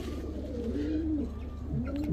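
A pigeon at a market pigeon seller's coos softly, a low warbling call rising and falling twice over a faint background hum.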